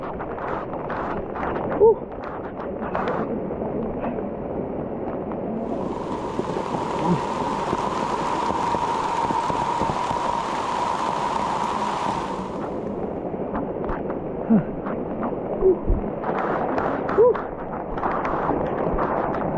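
Steady broadband rain hiss fills the clip, heavier in the middle, with people talking underneath and a few knocks and taps.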